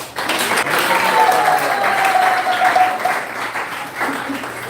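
Audience applause for the cooks at a Disappearance Day celebration at Krishna House in Gainesville, steady full clapping from a crowd throughout, with a faint tone and murmur underneath.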